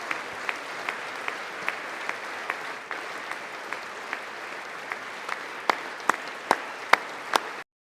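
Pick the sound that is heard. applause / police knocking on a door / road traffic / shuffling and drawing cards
applause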